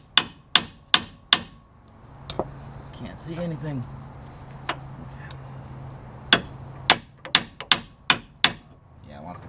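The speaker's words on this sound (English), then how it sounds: "you just pry and tap with a hammer" Sharp metallic hammer taps strike a vehicle part on an off-road build, coming in quick clustered bursts with a pause in the middle, close and loud, while someone speaks briefly between strikes.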